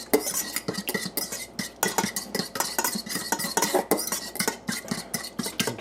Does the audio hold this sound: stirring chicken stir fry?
yes